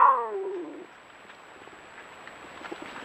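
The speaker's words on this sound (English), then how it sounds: "this is the sound of a female puma telling the male pumas that she's in heat" A female puma in heat gives a loud, harsh, rising yowl lasting under a second, then quiet background with faint rustling.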